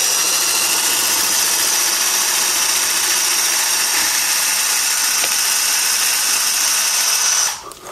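Power drill boring a hole into a ski to mount a binding, a steady high whine held loud and unbroken for about seven seconds before cutting off, with no talk.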